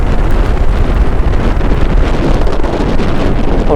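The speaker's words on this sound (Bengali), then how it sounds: "যেহেতু বাইক চালাচ্ছি হাওয়া লাগছে।" Strong wind rushing past a microphone while riding a motorbike on a road trip out of Kolkata in mild winter weather, a loud, constant roaring buffet with no pauses.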